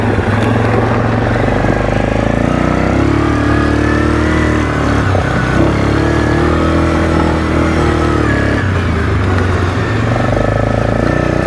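A 2007 Suzuki King Quad 750 ATV revs hard in high gear while its treadless tires spin and slide, a loud continuous engine roar rising and falling close to the microphone.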